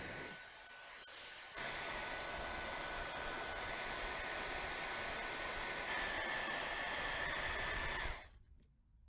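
A Gamma IQ hair dryer blows with a constant loud whooshing roar, close by and unbroken for about eight seconds before it cuts off abruptly.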